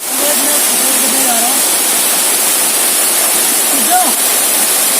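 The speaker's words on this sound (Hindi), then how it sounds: "बारिश हुई नहीं और वाटरफॉल स्टार्ट।" A mountain waterfall pours in a loud, steady, broadband rush that fills the whole scene, with a voice faintly audible beneath the roar.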